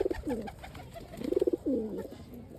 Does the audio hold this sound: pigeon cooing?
yes